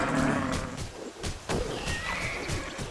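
Horse neighing in the video game Titan Quest, a loud whinny at the start with game sound effects and hoofbeat-like clatter continuing around it.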